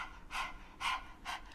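Rapid panting breaths during a kundalini yoga breathing exercise, three quick, close, breathy huffs in an even rhythm with no talk.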